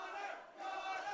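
A tournament crowd at a Super Smash Bros. Melee event chants in two swelling, rhythmic waves, distant and fairly faint, with no clear speech over it.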